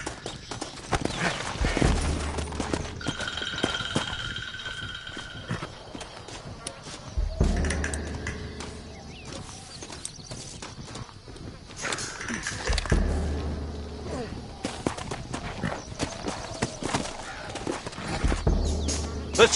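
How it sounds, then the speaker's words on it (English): Horses gallop in Red Dead Redemption, hoofbeats clopping in uneven bursts amid other game sounds, moderately loud and near, with speech breaking in at times. "Looks like Carlos left us some horses."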